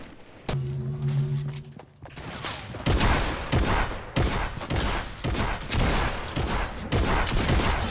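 Gunfire rattles in the Fortnite video game, loud and close, with rapid bursts of shots and thuds that follow a short tonal hum.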